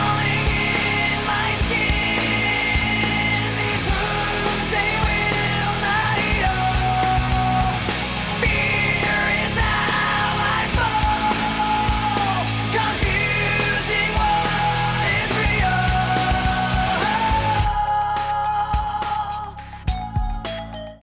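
The chorus of a song plays as a full band recording with sung vocals and layered instruments, steady and loud throughout before cutting off abruptly at the end.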